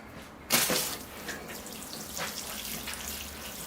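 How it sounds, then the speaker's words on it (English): Water pours from a Japanese copper watering can onto a potted bonsai, opening with a sudden close splash, then a softer steady trickle and patter over the soil that fades in and out. "I've got my birthday watering can out, my copper watering can from Japan"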